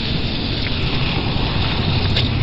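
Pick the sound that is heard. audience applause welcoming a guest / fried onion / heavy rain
heavy rain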